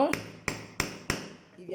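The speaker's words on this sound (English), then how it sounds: "as you hold it down and hammer" A hammer strikes an old shoe heel being revamped in shoemaking, four sharp taps spaced about a third of a second apart, close and ringing slightly, with a voice heard briefly at the start and end.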